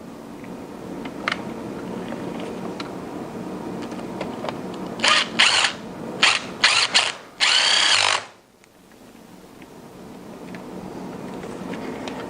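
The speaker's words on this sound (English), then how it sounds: "Install the bolt into the starter." A power drill or driver runs in several short bursts, then one longer run, driving thread-locked mounting bolts into a starter motor; close and loud against a quiet workshop background, with no talking.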